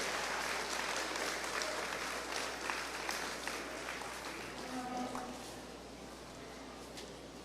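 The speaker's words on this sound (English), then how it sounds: "Give them a big round of applause as I go out and do that" A crowd at a 2021 beef showmanship show applauds steadily at a moderate distance, the clapping slowly thinning toward the end.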